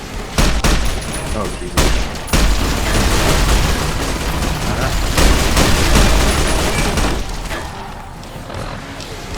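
Heavy gunfire in Fallout New Vegas while a Centurion is burned down, loud rapid volleys and booming shots in a sustained barrage that eases near the end, with a brief spoken exclamation over it.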